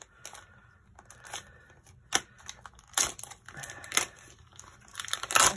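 Scissors cut through thin magnetic vent covers, giving a series of sharp, crisp snips and crinkly cracks spaced irregularly, close to the listener and with no talking.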